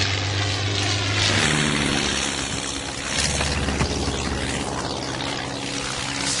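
A World War I propeller airplane drones loudly overhead, a deep continuous engine roar that swells and holds as it passes low.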